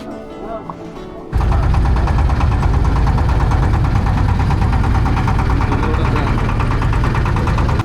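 A small motorised dinghy boat's engine runs on the Meghna river, kicking in abruptly after a quiet moment and then throbbing loud and steady with a rapid knocking beat close by.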